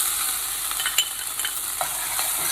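Aromatics fry in hot oil for curried shrimp, giving a steady close sizzle with faint clicks of stirring and no voices.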